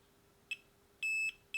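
Seaward PrimeTest 100 PAT tester giving continuity beeps: one short chirp, then a longer steady tone and another brief beep, clean and electronic against a quiet background with no talk.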